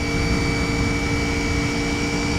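A 1987 Honda VFR400R NC24 400cc motorcycle engine pulls steadily under load at speed, a loud continuous drone with a sustained high whine and rushing wind noise throughout.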